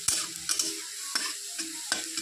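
Onions fry in a pan with a steady sizzle, broken by about five sharp scrapes of a spoon stirring against the metal, close and clear without any voices.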